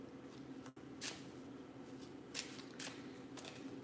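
Tarot cards being shuffled by hand in quiet, a few soft papery riffles and flutters spaced across the span, fairly faint with no talk.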